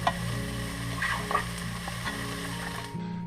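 Diced carrots, onions and celery sizzle steadily in oil in a pan, with scraping stirs and light crackles on top of an even frying hiss, close and alone.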